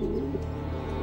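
Pigeons coo from a nest overhead in an old, damp stairwell. A short, low, throaty coo sits close against a steady muffled background.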